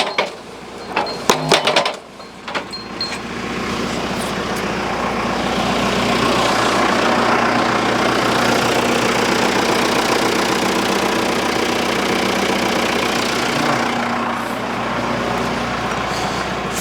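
A powered post driver hammers a horse fence post: a few sharp metallic clanks and knocks at first, then a loud, steady engine-driven rattle and rumble that continues without a break.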